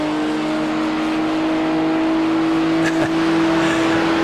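Australian Sports Sedans race at Bathurst, a steady loud engine drone holding a constant pitch as the cars run toward Conrad, with a brief passing surge near the end.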